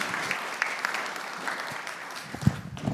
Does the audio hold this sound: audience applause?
yes